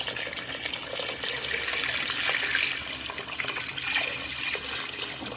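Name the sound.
water being poured into pot with fried meat for couscous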